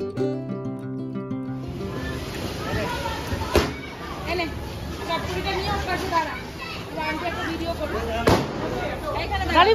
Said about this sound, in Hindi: हम लोग गेट के बाहर आके पटाखे फोड़ रहे हैं